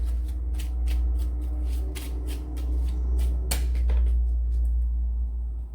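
Tarot cards being shuffled for a reading, a series of crisp riffling bursts and soft card slaps close by, repeating irregularly over several seconds with no talking.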